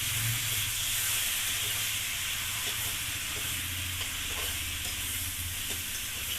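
Chicken pieces go into spiced masala in a hot pan, giving a steady loud sizzle and steamy hiss with faint stirring scrapes throughout, no talk.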